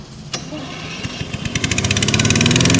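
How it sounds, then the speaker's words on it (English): A gas engine on a GOAT 22X slope mower cranks with a few uneven puffs, then catches and revs up into a fast, steady putter that grows louder. "I'm going to send the signal to start the gas engine."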